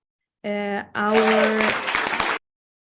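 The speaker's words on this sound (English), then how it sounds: "A round of applause to you." A short burst of applause from a small group, clapping for a couple of seconds after a brief voice-like tone, then stopping abruptly.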